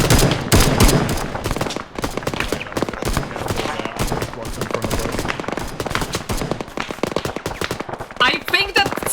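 Arma 3 gunfire, loud, dense, rapid bursts of rifle and machine-gun shots crackling continuously, near and far shots overlapping, with brief voices underneath.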